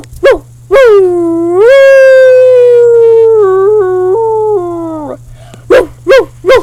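A voice imitates a dog called Duke: a few sharp yips, then a long wavering howl that bends down in pitch, followed by quick barks, loud and close over a low steady hum.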